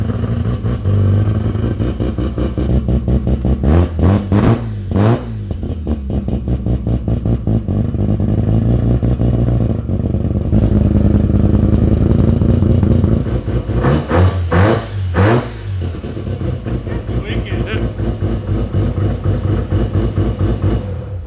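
A Mazda RX3 with a 13B rotary engine runs close and loud, a choppy buzzing idle with a couple of sharp rising revs in the middle, steady and alone without talk.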